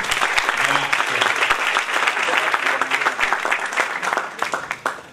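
A crowd at a 2016 Rotary Club ceremony in Lauria claps steadily and fairly close for about five seconds, with the claps thinning toward the end and voices mixed in underneath.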